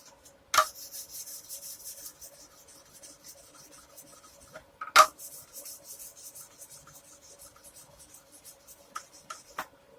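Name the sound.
rubbing guitar frets with fret leveling bar and sandpaper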